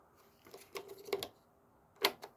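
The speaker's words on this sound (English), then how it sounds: "You press the stop button, you can hear it clicking" Sharp, close clicks from the stop button of a non-working mini lathe, a few irregular taps with a louder double click toward the end in a quiet room.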